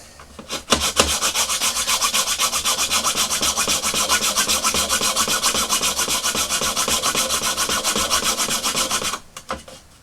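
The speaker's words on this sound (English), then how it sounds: "after a little bit of filing, I've managed to make this little square notch" A needle file cuts a notch in vintage Kenner toy plastic, giving fast, even back-and-forth rasping strokes at close range that run steadily for about eight seconds and then stop.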